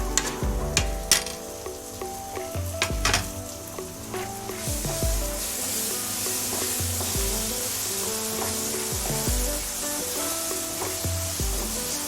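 Tomatoes cooking down in spiced oil in a pan for a turnip curry, with a continuous sizzle and repeated clinks and scrapes of a stirring spoon, close and fairly loud, with no voices.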